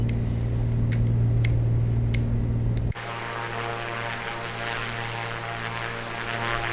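Piper PA24 Comanche propeller engine in Microsoft Flight Simulator 2020, a steady droning hum with a strong low tone that shifts abruptly partway through to a broader, rougher cabin-style roar, continuous throughout with faint ticking clicks early on.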